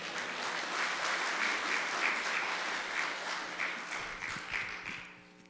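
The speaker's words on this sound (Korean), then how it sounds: "이 목사님 나오실 때 우리 할렐루야로 박수로 우리 맞이하도록 하겠습니다" A church congregation claps to welcome the pastor to the pulpit, a sustained round of many hands in a reverberant sanctuary that swells and then fades away at the end.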